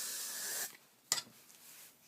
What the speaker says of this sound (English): Spray the front a bit